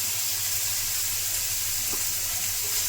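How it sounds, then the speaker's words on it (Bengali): Onions frying in a pan with salt for doi begun, a steady close hiss of sizzling oil that runs unbroken throughout. "কিছুক্ষণ পেঁয়াজটা ভেজে নেব।"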